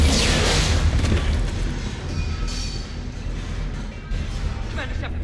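A bomb goes off in the sci-fi game Mass Effect 3, a loud booming blast that rumbles and fades over a few seconds.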